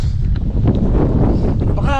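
Strong wind on the Mt Timbac summit roars steadily into the microphone as loud, continuous buffeting rumble, with a voice talking over it.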